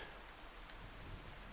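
Steady, soft rain patter hisses evenly throughout a rainy April day in the farming video game Farming Simulator 25, with no other sounds over it.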